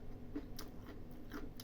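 Someone chews a crunchy ear mushroom salad with onion, giving soft, close crunches and bites at irregular intervals over a quiet low hum.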